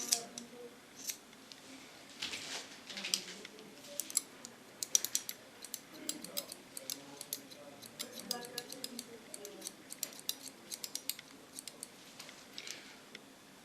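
Scissors snipping a woman's hair during a haircut, a close run of rapid, irregular metallic clicks and snips that continues throughout.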